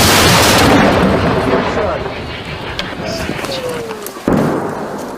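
A loud, booming artillery blast near Toretsk in Donetsk region that rumbles and decays, followed by a second sharp report near the end, with shouted Ukrainian firing commands mixed in.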